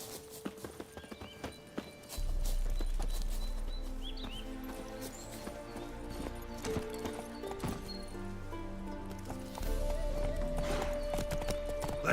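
Hooves clip-clop in a quick, steady gallop in The Witcher 3 over a low rumbling background, with a brief whinny and scattered game sounds.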